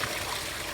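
A garden hose runs steadily during a coolant flush on a C4 Corvette, a constant close hiss of flowing, splashing water with no pauses.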